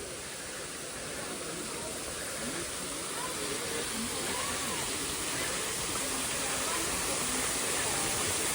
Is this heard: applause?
no